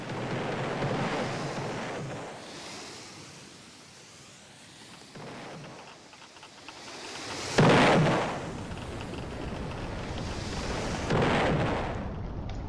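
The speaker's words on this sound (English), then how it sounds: "I just exploded." Video game explosions boom out in loud, rumbling bursts, with a sharp blast near the middle and another toward the end over a steady low roar. No voices are heard.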